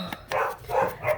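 Fergie, a pet dog, lets out a quick series of sharp barks and yips, three or four in a row, close by and fairly loud, with no talk over them.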